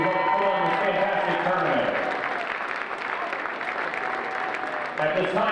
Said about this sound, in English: Let's have a big round of applause for all those who helped put on this fantastic tournament.